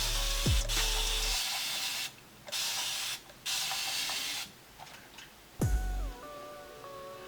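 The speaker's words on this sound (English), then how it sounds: "So I'm gonna spray it with water." A spray bottle hisses out several quick mists of water onto hair in a row, each burst followed by a short pause.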